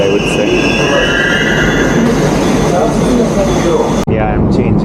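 Moscow metro train running loudly through a tunnel, with a roaring wheel rumble and high squeals. A sharp break comes near the end.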